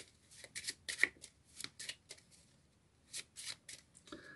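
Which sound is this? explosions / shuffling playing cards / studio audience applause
shuffling playing cards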